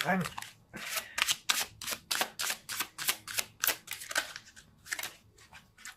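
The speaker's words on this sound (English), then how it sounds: "Let's see if I can shuffle." A deck of tarot cards is shuffled by hand in a quick run of sharp riffling and slapping bursts, roughly a dozen in a steady rhythm, close and clear in a quiet room.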